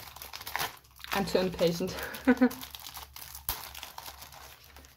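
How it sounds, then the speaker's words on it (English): A parcel's protective packaging around a Blu-ray is torn and crumpled open close by, with crinkly rustling bursts and a few sharp rips, while a person talks over it. "I guess I will just rip it."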